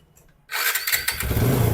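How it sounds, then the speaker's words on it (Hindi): A TVS Apache motorcycle engine with a noisy crank and an engine fault bursts into loud, rough running after a brief quiet moment, then holds a steady, harsh mechanical roar close by. "इससे पहले आपको थोड़ा हम इंजन का थोड़ा साउंड सुना रहे, देखिए।"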